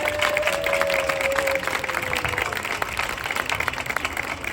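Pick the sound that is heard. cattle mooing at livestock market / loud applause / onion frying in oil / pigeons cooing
loud applause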